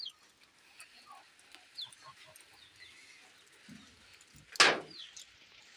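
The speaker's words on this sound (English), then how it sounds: "Those are the geese. They're so beautiful. And the ducks." Farm geese and ducks call in scattered honks and quacks at a moderate distance, with one loud close squawk near the end over quiet outdoor ambience.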